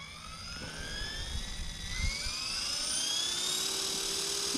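A Blade Fusion 180 Smart RC helicopter spools up for takeoff, its motor whine rising steadily in pitch over a few seconds, loud and close with a constant rushing of rotor air beneath.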